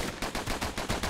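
Rapid gunfire from the video game Bastion, a quick burst of about six evenly spaced shots in just over a second, moderately loud.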